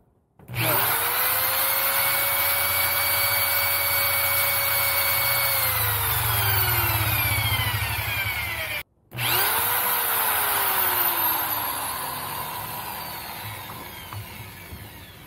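A power drill whirs up to speed and grinds steadily, stops briefly, then spins up again and winds down while biting into material.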